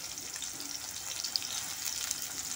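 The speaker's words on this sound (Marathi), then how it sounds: "हे सोयाबीन आपल्याला थोडे तेलामध्ये परतून घ्यायचे आहे" Soybeans fry in hot oil in a kadai, giving a soft, steady sizzle with faint crackles and no voices.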